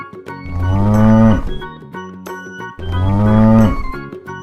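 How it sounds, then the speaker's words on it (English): A cow moos twice, long loud calls each lasting about a second, separated by a short pause, close and clear with no other sound. "Cow."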